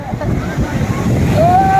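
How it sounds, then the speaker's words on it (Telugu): Roaring rush of big ocean waves breaking at Rushikonda beach, Visakhapatnam, in the evening, with wind buffeting the microphone, loud and close, and a voice calling out briefly over it. "అలలు వచ్చేస్తున్నాయి."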